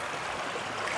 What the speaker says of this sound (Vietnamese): để cho nước suối nó chảy xuống.